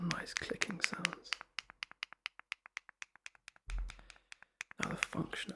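The middle button on a pair of gaming headphones gives a long series of crisp, evenly spaced clicks up close, framed by soft whispering at the start and end and a brief low rustle midway.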